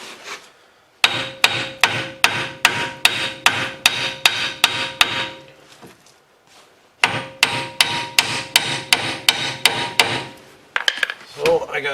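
A hammer taps metal parts into place in two runs of sharp, evenly spaced ringing strikes, close and loud, separated by a short pause, ending with some clattering handling.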